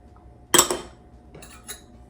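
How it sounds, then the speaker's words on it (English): A whisk strikes a metal bowl of gluten-free dry flour mix for a pound cake, giving two sharp clinks close by, the first louder, followed by a softer rattle. "Give everything a good whisk."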